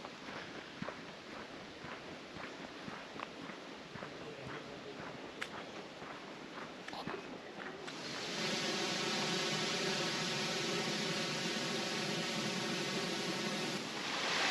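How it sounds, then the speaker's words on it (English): Gardner River in the Australian bush, narrow where heard from the bank: a soft broadband hiss of running water, faint at first with scattered ticks and rustles, then swelling into a louder, steady wash. "Perhaps you can hear it burbling and bubbling in the background."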